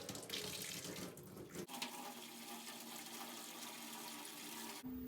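Tap water runs steadily into a kitchen sink closed with a makeshift plug, a continuous splashing rush that changes tone partway as the basin fills, then stops abruptly.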